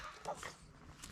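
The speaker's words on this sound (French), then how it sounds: "T'arrêtes d'aboyer, Beeper?" A dog named Beeper barks outdoors on a walking path, giving a short, faint bark or two with a soft whimpering edge.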